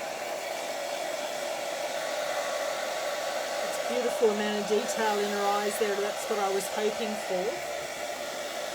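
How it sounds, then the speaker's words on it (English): A hair dryer blows with a steady, loud whooshing roar throughout, drying black acrylic on a plate, while someone speaks over it in the second half. "just use a light hairdryer now to just dry that image"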